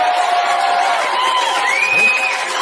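An audience at a political rally cheers and whoops in a loud, continuous crowd roar, with a rising shout near the end.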